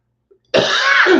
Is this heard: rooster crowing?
no